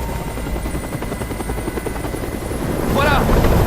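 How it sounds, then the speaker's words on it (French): A helicopter hovers in the video game Detroit: Become Human, its rotor churning in a loud, steady rhythmic thrum that grows slightly louder toward the end, with a brief voice-like sound near the close. "Je peux plus supporter ce bruit. Fais dégager cet hélicoptère, maintenant."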